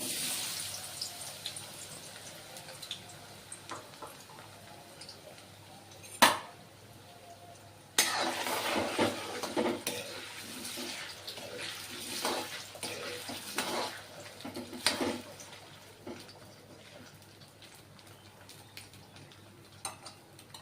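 Potatoes frying in hot oil give a faint, steady bubbling sizzle with occasional clunks and bursts of louder crackle, close by and without talking.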